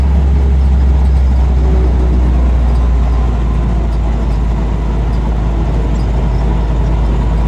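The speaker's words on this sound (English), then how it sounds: "Here comes somebody in truck." A truck rumbles past on a dirt road near old mines, heard from an open 1944 Army Jeep, its low engine drone loud and constant throughout.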